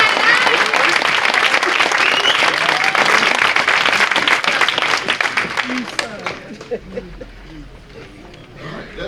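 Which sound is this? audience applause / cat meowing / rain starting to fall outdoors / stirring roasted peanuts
audience applause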